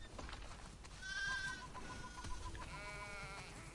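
Sheep and goats bleat in The Last of Us Part 2 video game, several overlapping calls with one long clear bleat early and another toward the end over a steady farmyard background.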